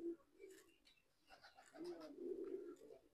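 Pigeon cooing softly in a loft, low murmuring coos in a couple of phrases, fairly faint with light background noise.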